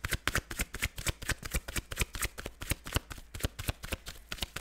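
Tarot cards being shuffled in a fast, steady run of crisp riffling flicks, close and fairly loud, with no talking.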